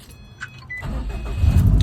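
A 2013 Subaru WRX STI engine cranks and catches near the end, rising into a low rumble after a few quiet clicks and rustles.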